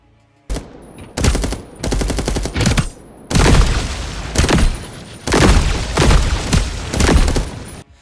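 Automatic weapon fire rings out at a shooting range in the video game Fragpunk, several loud, close bursts of rapid shots separated by short pauses.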